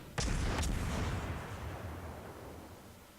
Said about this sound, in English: Let's just start shooting.